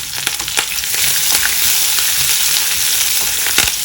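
Chopped green chillies and ginger fry in hot oil, giving a loud, steady sizzle up close, broken by a few sharper crackles and spatters, with no one speaking.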